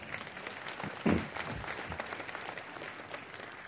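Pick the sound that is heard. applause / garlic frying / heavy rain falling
applause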